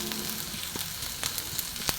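Onion and garlic frying in a pan for pumpkin-coconut chops, a steady close sizzle with scattered crackles and pops throughout, no voices.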